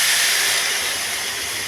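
Food dropped into hot oil in a wok, giving a loud, steady, bright sizzling hiss that holds evenly and eases off slightly over a short moment, with no talking.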